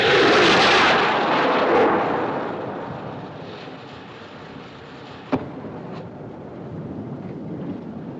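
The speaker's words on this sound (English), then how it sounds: "I wonder what a ship like that would want to fire rockets for." In a 1958 film scene, a ship fires a rocket at sea, a loud rushing whoosh that fades away over several seconds, followed by a sharp distant pop and low wind-like rumble.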